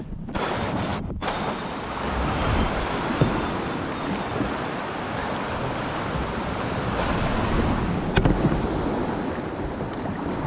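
Ocean surge washes around Donut Island near Whangamata in a broad, continuous roar of surf, mixed with wind buffeting the microphone and an occasional sharp splash, with no talking.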